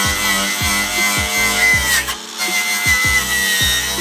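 A power tool cuts out rusted body metal on a Mazda MX-5, a loud close grinding drone with regular rhythmic strokes and a brief dip midway.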